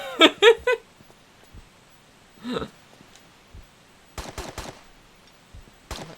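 Gunfire in the video game Tomb Raider 3: separate short bursts of shots, a quick cluster at the start, a lone burst midway and a rapid volley of four or five near the end, crisp and fairly loud against near silence.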